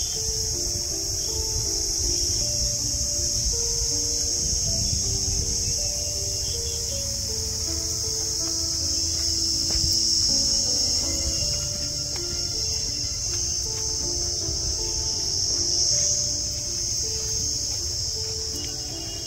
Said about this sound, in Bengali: একদম পরিষ্কার দিনের বেলায় ঝিঝি পোকার ডাক।